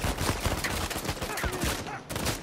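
A dense, rapid burst of gunfire from a player blind-firing in Uncharted 4 team deathmatch multiplayer, constant loud crackling shots filling the moment with no speech.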